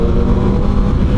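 A 2024 Honda CB650R motorcycle fitted with an Orion exhaust, heard while riding on the road: a dense, steady engine rumble with wind noise, loud and close, with no talking.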